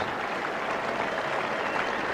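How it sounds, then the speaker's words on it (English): Cricket crowd at a 1988 NatWest semi-final between Surrey and Middlesex applauding a batsman's century, a continuous, distant roar of clapping from a large stadium audience, even and sustained throughout. "applause for what was a marvellous innings."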